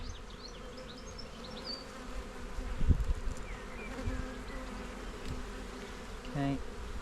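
Honeybees buzz steadily while being shifted from one hive to another during a merge of a strong colony with a failed one, a dense close hum with a few louder bumps and knocks of frames partway through.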